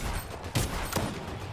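Gunfire in the Fortnite video game, two sharp shots about a third of a second apart over a steady background of game noise, with no talking.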